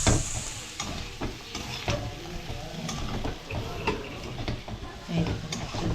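Spices fry in a pan for mung dal, a steady sizzle broken by repeated scraping stirs of a utensil against the pan, close and fairly loud, with no talking.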